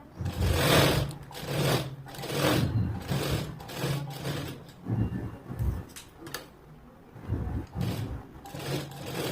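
A sewing machine stitches lace onto a long-sleeved blouse, its close, loud motor whirring in repeated surging runs with brief pauses between them.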